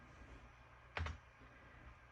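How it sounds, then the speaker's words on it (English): A single key press on a computer keyboard, the escape key, lands as one short, sharp click in an otherwise quiet room. "all you've got to do is press the escape key on your keyboard"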